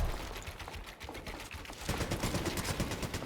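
Rapid gunfire in a ranked video game bursts out in quick clustered volleys, growing louder and denser partway through, with no talking.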